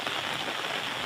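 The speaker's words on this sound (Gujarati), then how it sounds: "અને વરસાદ આવી ગયો." Rain falls steadily over a cotton farm field, a dense, even hiss of drops striking plants and ground with no gaps.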